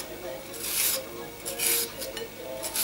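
A carrot is shredded on a kitchen grater in a series of close, rhythmic scraping strokes, about six rasping passes with brief pauses between them.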